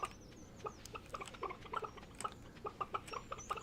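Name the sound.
chickens clucking in Stardew Valley video game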